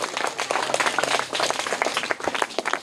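A classroom of young third-grade schoolchildren claps for a classmate's correct answer, a dense, fairly close patter of many small hands that stays steady for about three seconds.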